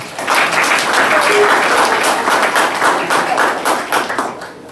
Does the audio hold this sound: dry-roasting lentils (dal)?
no